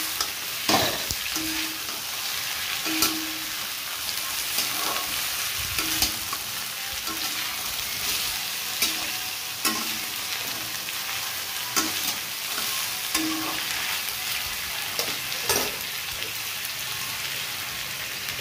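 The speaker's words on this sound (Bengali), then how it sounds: "মানে ভাজা করে নেব আজকে।" Taro stolons (kochur loti) fry in a pan, giving a steady close sizzle with small crackles and occasional clinks of stirring throughout, with no talk.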